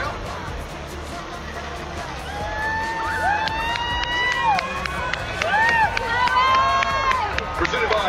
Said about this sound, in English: Ladies and gentlemen, the crowd.